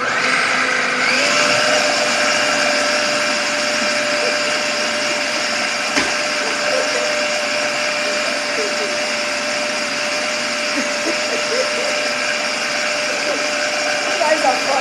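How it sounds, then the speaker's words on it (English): A kitchen blender whirs steadily as it blends a cream mixture, a loud continuous motor drone that holds evenly from start to end. "And blend it again."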